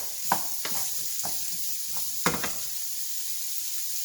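Celery, peppers, onion and garlic frying in a pan for dirty rice, a steady bright sizzle with a few sharp stirring scrapes and clacks, close and continuous.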